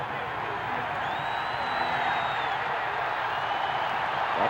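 Large stadium crowd at a 1980 South Carolina at Georgia college football game, roaring steadily for a third-quarter kickoff, a dense continuous swell with faint whistles rising above it.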